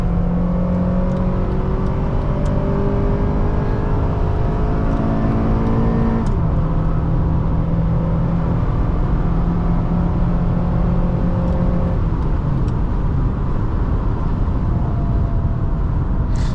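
A 2010 Honda CR-V LX engine hums loudly from inside the cabin as it accelerates on a test drive, pitch rising steadily through the gear before a shift, then climbing again under constant road noise.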